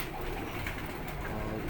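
A pigeon coos softly and close by, a brief low murmuring call over a steady background hiss.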